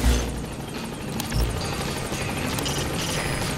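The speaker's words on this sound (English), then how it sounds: "Support helicopter has arrived." Support helicopter arriving at a landing zone in Metal Gear Solid V, rotor noise thumping and whirring steadily with a couple of heavy low thuds, loud and close, no speech.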